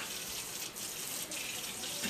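Cold water runs steadily from a tap into a plugged kitchen sink, a continuous close hiss and splash with no talking.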